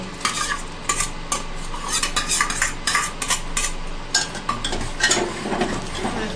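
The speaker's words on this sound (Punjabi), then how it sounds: "ਸਬਜ਼ੀ ਨੂੰ ਮਿਕਸ ਕਰ ਦਾਂਗੇ" Potato pakora curry mixed in a pot, repeated metallic scraping and clinks of a spoon against the pot in an uneven rhythm over a soft simmer, close and fairly loud, no talking.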